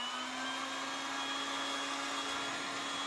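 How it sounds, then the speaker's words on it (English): A heat gun blows hot air steadily while it is moved along creases during a pastel artistry demonstration. The whine and whoosh of the motor stay constant and close, with no talk over them. "Watch how I'm moving my heat gun."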